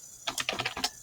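A short burst of quick keystrokes on a computer keyboard while entering data into a spreadsheet, about a dozen crisp clicks in an uneven rhythm, close and clear with no talk.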